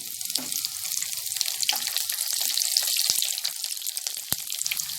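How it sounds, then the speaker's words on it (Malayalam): Dried red chilli pieces fry in hot oil for a homemade snack mixture, producing a continuous close sizzle with scattered sharp crackles and pops. "അപ്പം നമുക്ക് വറ്റൽമുളക് കഷ്ണമാക്കിയിട്ട് അതിലേക്ക് ഇട്ട് വറുത്ത് പോരാം."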